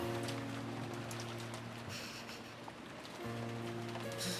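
Steady wind and rain ambience from the visual novel Umineko When They Cry, a continuous even wash of rainfall with a low sustained tone beneath, alone and without voices.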